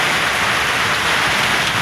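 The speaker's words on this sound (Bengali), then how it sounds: "জোরসে বৃষ্টি হচ্ছে।" Heavy rain pours down during a night storm, a loud, steady, close wash of falling water striking surfaces for about two seconds, with no voices.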